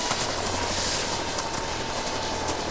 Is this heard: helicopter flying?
yes